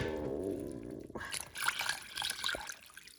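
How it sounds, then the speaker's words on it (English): Water poured into a pot, a rising gurgling fill that shifts to splashing and trickling, close by and fairly quiet. "we're gonna add a little more water in here"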